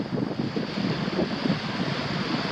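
Steady wind rushing at Kailua Beach, a continuous broadband roar with surf-like swells, loud and close with gusty buffeting on the microphone and no talking.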